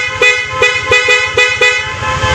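Stock horn of a Yamaha Aerox V1 scooter gives several short, loud honks in quick succession, a steady buzzing tone pulsing on and off at close range.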